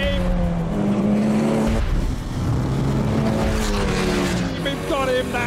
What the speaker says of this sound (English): The car really coming alive with that extra power.